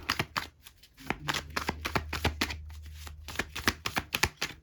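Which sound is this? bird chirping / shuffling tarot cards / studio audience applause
shuffling tarot cards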